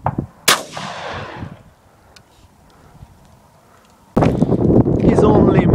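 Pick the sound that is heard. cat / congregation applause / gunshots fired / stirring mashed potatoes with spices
gunshots fired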